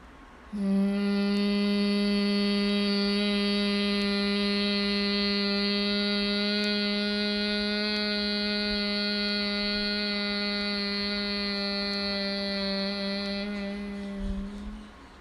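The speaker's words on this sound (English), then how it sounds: "So that's humming bee breath, a beautiful pranayam practice" A person performs humming bee breath, a pranayama practice, chanting with the mouth closed: a single long, steady nasal hum held for roughly fourteen seconds, close and clear, with no other talk.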